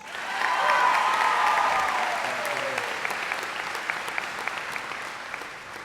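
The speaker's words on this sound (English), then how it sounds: "Let's give them a round of applause" Graduation ceremony crowd applauding, a dense sustained wash of clapping that swells quickly, holds loud for a couple of seconds, then gradually thins and fades with scattered claps near the end.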